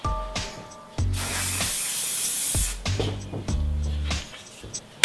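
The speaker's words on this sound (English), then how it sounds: "spray the hair" Johnny's Fix Power Hold hairspray hisses from a can onto a client's hair at a barber's, in two long bursts of close, loud spraying separated by a pause, with buzzing clippers sounding in between.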